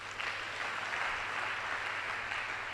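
A church congregation claps together during a Telugu sermon, producing a steady, even wash of applause throughout, moderately distant and fairly soft, with no talk over it.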